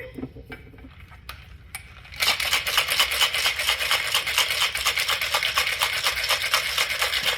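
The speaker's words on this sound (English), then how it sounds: "Give it a really good shake." A cocktail shaker filled with a blood orange drink with orange bitters is shaken hard: a few light knocks, then several seconds of fast, even, rattling ice strokes, loud and close.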